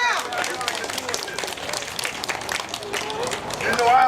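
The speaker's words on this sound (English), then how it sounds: "Please applaud yourselves." Union rally audience at an SEIU Local 6 gathering breaking into sustained applause and scattered cheers, loud and close, building toward the end, with a voice calling out over the clapping.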